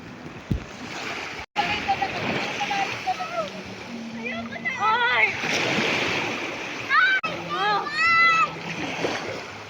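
Sea waves splash and wash on a beach at Lian, Batangas, a steady surf hiss with sudden close splashes, heard beneath excited children's and adults' chatter and shrieks.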